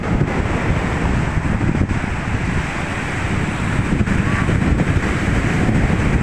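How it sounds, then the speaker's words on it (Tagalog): Strong ocean surf breaking on a beach shore, a loud, steady wash of crashing waves with heavy wind buffeting the microphone throughout. "Malakas ng alon."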